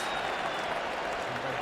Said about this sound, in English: Applause on the balcony, the crowd going wild.